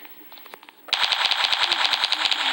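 Rapid automatic gunfire from a video game match, a quick steady burst of around fifteen sharp close shots that starts abruptly after a short quieter lead-in.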